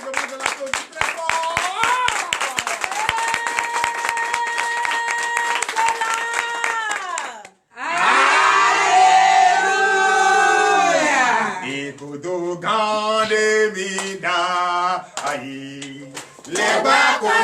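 A church congregation at a night deliverance service in Comè, Benin claps loudly and rhythmically, the clapping blended with loud singing, voices and music throughout.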